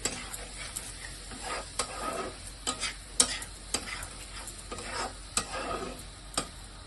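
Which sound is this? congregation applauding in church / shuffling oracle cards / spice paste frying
spice paste frying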